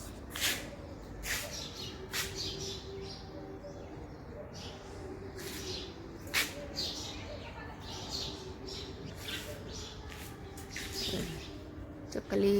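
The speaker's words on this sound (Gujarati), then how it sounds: "સરસ મજાની ચકલીઓ ચીચી બોલી રહી છે" Sparrows chirp around their nest in soft morning sunshine at a family home, with short sharp tweets scattered irregularly across the stretch, moderately close, and a voice heard faintly in places.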